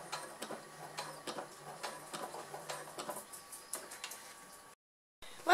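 A sewing machine topstitches a plastic pouch with soft, quick ticking bursts of stitching, close and fairly quiet, then stops, followed by a short silence and a brief bump.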